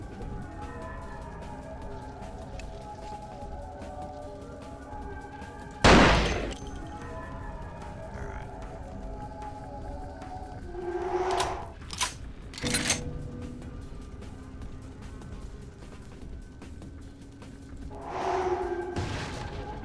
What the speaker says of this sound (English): In the middle of a firefight, no less.